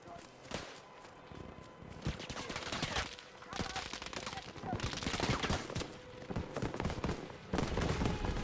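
Battlefield V video game gunfire crackles in dense, fairly quiet volleys, with machine-gun rattle and scattered shots layered under footsteps and movement noise.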